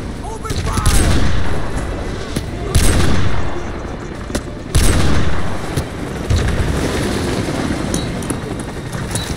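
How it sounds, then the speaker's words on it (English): Heavy gunfire and booming blasts from Call of Duty Modern Warfare 2 remake, a battle at the Washington Monument; loud bursts of shots and explosions repeat throughout, with sharp peaks around a few seconds apart over constant combat noise. "We're taking fire at the Washington Monument"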